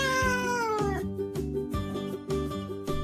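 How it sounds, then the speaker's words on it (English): A cat meows loudly and close by, with a long drawn-out cry sliding downward and then shorter repeated calls. Steady tonal background sound runs underneath. "Look, the cat is running along the yard."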